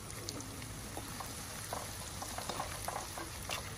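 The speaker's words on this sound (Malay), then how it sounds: "Kemudian kita goreng ikan bilis." Steady sizzling and bubbling of anchovies frying in hot oil, with small crackles and pops scattered throughout; no talking.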